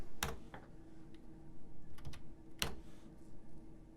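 Fast typing on a computer keyboard, bursts of quick close key clicks with a couple of louder strikes, no speech.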